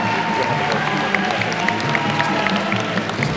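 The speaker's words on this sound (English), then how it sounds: "Round of applause, please." Audience at a youth debate on the Alternative Vote gives its panel a round of applause, a dense, steady wash of many hands clapping that holds evenly throughout, fairly loud with no talk standing out.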